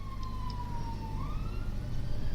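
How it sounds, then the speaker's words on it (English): A wailing siren rises and falls in the background over a steady low rumble of traffic, no voices. "I heard the sirens go off in the background there."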